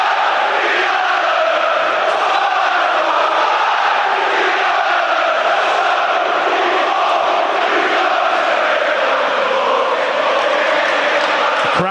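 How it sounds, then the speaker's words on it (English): Loud, continuous roar of a football stadium crowd at a Stoke City match against Sheffield Wednesday, massed voices chanting and shouting at a steady, sustained level throughout. "Crowd here really getting involved"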